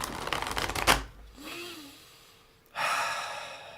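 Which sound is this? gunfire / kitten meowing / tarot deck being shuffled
tarot deck being shuffled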